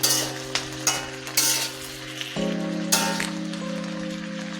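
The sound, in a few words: stirring dal and vegetables in a new wok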